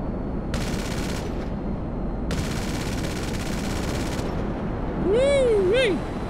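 Aircraft machine guns strafing in the video game GTA 5, two long rapid bursts of gunfire, followed by a rising and falling synthetic whine near the end.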